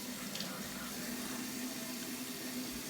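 Warm tap water runs steadily into a sink for rinsing the face between wet-shaving passes, a constant close-up stream with no talking.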